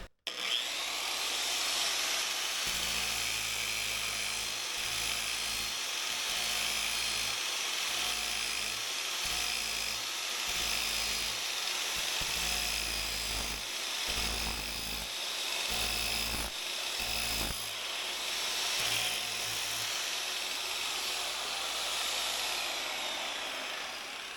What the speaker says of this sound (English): I left this off just so I can use the sander and test it